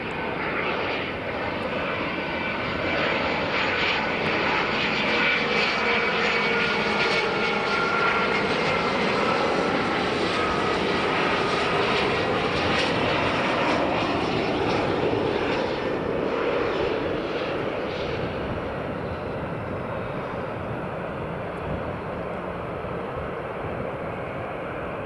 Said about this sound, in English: Oh, here's that business jet. This is a smart little one.